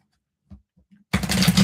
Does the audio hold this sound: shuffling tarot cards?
yes